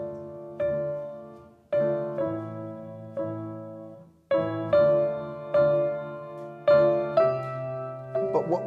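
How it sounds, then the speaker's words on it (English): Solo violin, a Stradivarius, plays the melody of Vivaldi's La Follia sonata, Opus 1 No. 12, in a string of sustained, bowed phrases with short breaks between them. It is heard close and alone. "here's the Vivaldi melody, La Follia, the sonata number 1, opus 1, number 12."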